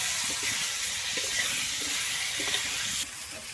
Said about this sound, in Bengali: আমি সিমটা এবারে লাল করে ভেজে নেব